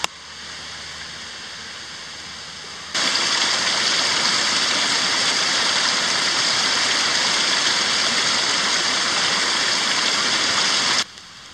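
A creek flows steadily beside a rock on an early-fall overnight camp, a broad rushing wash of water that starts softer, swells louder after a few seconds and holds evenly before dropping away at the end, with no voices.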